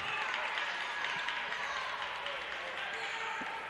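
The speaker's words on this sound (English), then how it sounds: "Home crowd cheering on their Panthers as they take the court for the fourth quarter." A home crowd at a boys' varsity high school basketball game cheers and applauds as the team takes the court for the fourth quarter, a steady wash of clapping and shouting across the gym.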